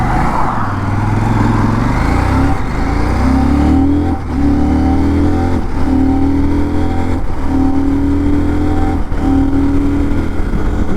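A CF Moto 800 MT motorcycle accelerates hard through several gears using its quick shifter, the engine note rising repeatedly and cutting briefly at each rapid upshift, loud and steady from the rider's position with constant wind rush.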